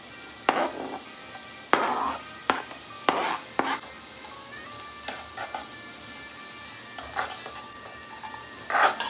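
Beans, carrots and cabbage stir-fried with paneer for fried rice, a constant close sizzle broken by repeated sharp scrapes and clanks of a spatula against the pan in an uneven rhythm, no voices.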